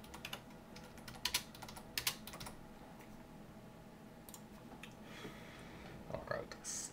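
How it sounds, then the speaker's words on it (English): Quiet, close-up typing on a computer keyboard in a calm cranial nerve exam setting, soft clicking keystrokes in small bursts with pauses, with low, faint background sounds. "So let me just type that in."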